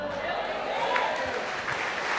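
Church congregation applauding after a testimony of healing, a steady wash of clapping that fills the space, with voices mixed in.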